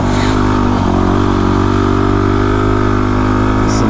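A motorcycle engine drones steadily and loudly up close while riding along a road, a continuous mid-pitched hum with slight variations in revs.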